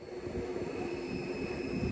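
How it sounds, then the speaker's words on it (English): Steady low rumble of a Flam Railway train departing Flam in Norway, rolling along the tracks, with a thin squeal of wheels over the noise. "This is the scene as the train leaves Flam, headed toward Myrdal."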